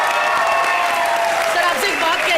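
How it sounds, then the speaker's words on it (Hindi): A comedy show studio audience applauds loudly for Shah Rukh Khan, dense close clapping with a few cheers throughout the brief burst. "शाहरुख सर के लिए जोरदार ताली।"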